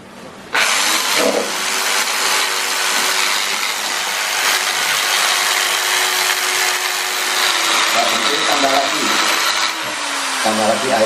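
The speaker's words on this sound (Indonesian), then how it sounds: "Kemudian kita blender." A loud, steady blender whirring continuously with a harsh grinding texture as it mixes organic liquid fertilizer with rainwater, briefly dipping near the end before resuming.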